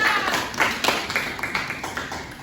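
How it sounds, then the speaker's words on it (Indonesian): A classroom of students claps for a classmate, a short, fairly soft patter of hand claps with distinct slaps standing out, fading over a couple of seconds. "Tepuk tangan buat Dinda."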